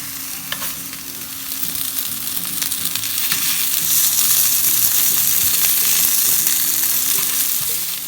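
Potato tikkis shallow-frying in oil in a pan, a loud, dense, continuous sizzle that swells slightly over several seconds, with faint clicks and crackles, no talking.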